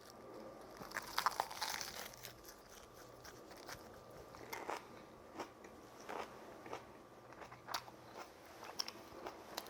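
Someone eats Pohang Guryongpo gwamegi wrapped in seaweed with scallion, making soft, close crunches and wet chewing sounds at an irregular pace, with faint crinkles between bites.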